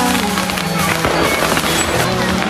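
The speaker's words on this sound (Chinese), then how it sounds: "长沙不禁烟花" Fireworks burst over Changsha on a foggy night, heard from a hilltop as a dense, loud, continuous crackle with scattered sharper pops throughout.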